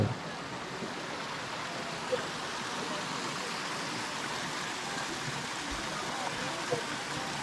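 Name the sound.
water flowing from Kallathigiri waterfall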